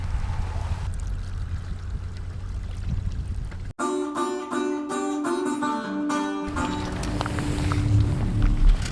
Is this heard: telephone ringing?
no